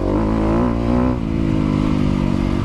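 A 250 motocross motorcycle rides along a trail with a loud, continuous engine drone that stays close and steady, its pitch easing slightly partway through.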